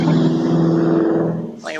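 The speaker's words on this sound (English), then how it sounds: "Make sure that car doesn't run over you." A car engine revs loudly and steadily, its deep droning tone holding close and continuous for nearly two seconds before easing slightly at the end.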